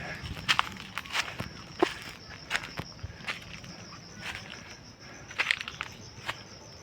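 Footsteps crunch along a hillside trail near a tower, a steady walking rhythm of close, distinct steps over a constant high insect drone.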